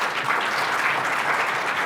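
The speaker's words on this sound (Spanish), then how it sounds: "vamos a levantarnos y dar un aplauso" An audience at an indigenous-language literature gathering stands and applauds, a steady, fairly loud wash of clapping from many people, brief and continuous.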